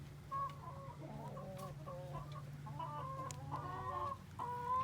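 Farmyard chickens cluck and murmur steadily in a flock, soft overlapping calls at moderate distance over a constant low hum.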